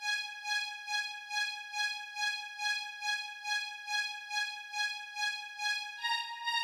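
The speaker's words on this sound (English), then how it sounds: "Then we got another two pairs of violins that's also playing the same as the xylophone" Two pairs of bright violins from Logic stock sounds play a repeating line together, a clear sustained tone pulsing in evenly spaced swells, alone and fairly soft, with a brief change of pitch at the end.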